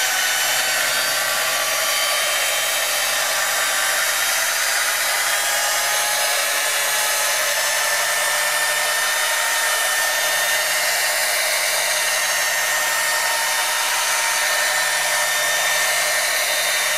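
Steady, loud whir of a machine polisher working wet-sanded scratches in car paint, running continuously without pause and pressed hard against the surface, with no talk.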